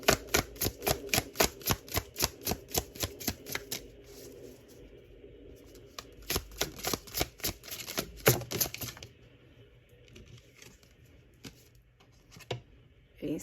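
Tarot cards are shuffled by hand in quick, rhythmic riffling bursts, close and crisp, pausing now and then before another run of rapid flicks, with no talking.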